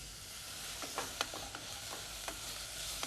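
Soaked dal sautés in a pan with a continuous hiss and sizzle, and a few light clicks and taps as it is stirred; no one speaks.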